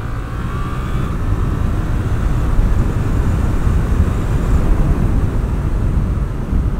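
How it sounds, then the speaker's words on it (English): Suzuki GSX-8S motorcycle engine pulling hard under steady throttle while shifting up through the gears, a continuous loud, rough drone with wind noise and no clear pauses between shifts. "If you just hold that throttle there and blip through the box, it's just linearly just keeps going."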